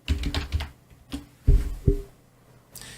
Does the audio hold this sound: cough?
no